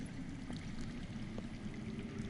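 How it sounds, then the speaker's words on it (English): Water flows underground in a low, steady, continuous rush, faint and even throughout with no talking. "That's water. I hear water. From underground."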